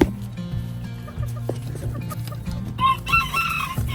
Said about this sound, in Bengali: আর তার পাশে যেটা রয়েছে ওটা হচ্ছে সুরমা দেশি জাতের মোরগ